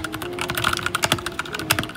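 Rapid typing on a cheap Smart Duck gaming keyboard, a dense run of sharp, close key clicks and clacks in an uneven rhythm with no voices.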